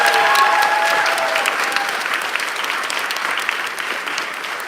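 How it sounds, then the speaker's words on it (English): Audience at a symposium applauding in a dense, steady wash of clapping that fades slightly over several seconds, fairly loud and close with no speech over it. "Give them a round of applause, please."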